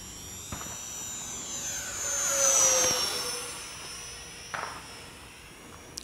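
An E-flite A-10 Thunderbolt II model jet with a 64mm electric ducted fan flies past outdoors. Its high whine rises as it approaches, peaks loud overhead and then drops in pitch and fades away.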